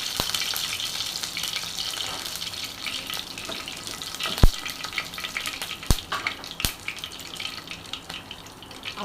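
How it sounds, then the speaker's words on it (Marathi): Crushed curry leaves frying in hot oil, a steady bright sizzle and crackle with a few sharp clicks or taps standing out, close and alone without talk. "कढीपत्ता मी ठेवलं होतं 2-3 पानं, ते असे क्रश करून टाकणार आहे मी याच्यामध्ये"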